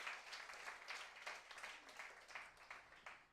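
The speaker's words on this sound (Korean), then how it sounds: "박수 한번 주시죠." An audience at a seminar applauds in a soft, steady wash of clapping that stays faint and distant through the whole stretch, with no voices over it.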